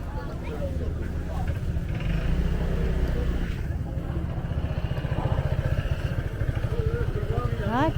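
Many motorbikes stream along a street in Hoi An, their overlapping engines forming a steady, close mid-pitched drone with rising revs, while voices talk faintly underneath.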